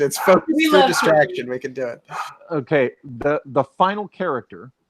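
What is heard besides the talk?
No everyday noises stand out.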